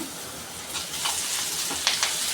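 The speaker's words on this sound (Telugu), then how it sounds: "కొద్దిగా కొద్దిగా ఆనియన్ పలుకులు కొంచెం వేగనిద్దాము కరివేపాకు వేసుకుంటున్నాను" Onion pieces and curry leaves sizzle steadily in hot oil while a samosa filling is being cooked, a close, continuous crackling hiss with a few sharper pops near the end.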